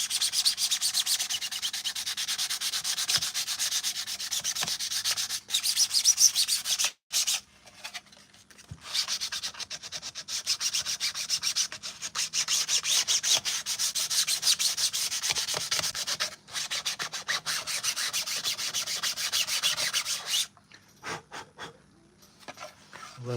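Custom Mandalorian armor pieces being sanded with steady rapid back-and-forth rasping strokes, close and continuous with a few short pauses, no talk.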